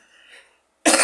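A single sharp, loud cough bursts out close to the microphone right after a stretch of faint murmuring and near silence.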